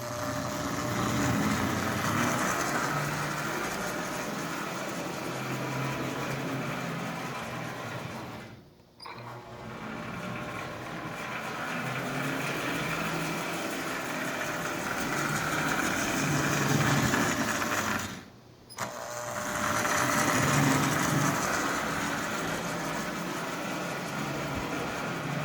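A Marx 490 toy train locomotive with a double reduction motor runs steadily, producing a continuous mechanical whir and rumble that drops out briefly twice, sounding somewhat sluggish.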